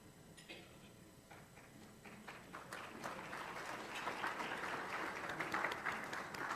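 A light smattering of applause at a Rotary club meeting starts faint and sparse, then builds into fuller, steadier clapping from a modest indoor audience over several seconds, fairly quiet and distant.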